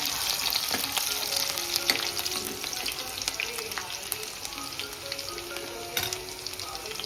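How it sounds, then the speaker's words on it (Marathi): Crushed garlic and green chili sizzle in hot oil, a steady, close frying hiss with occasional stirring clinks and no talking. "आता आपण लसूण टाकू फेटलेला, लगेचच मिरची. दोन्ही पण जरा 2-3 सेकंद परतायचे."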